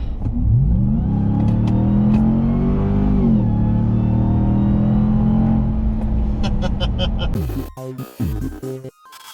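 A RAM TRX pickup truck at full throttle, its engine roaring loud and close as revs climb steadily for several seconds, then dropping off into choppy, irregular bursts near the end.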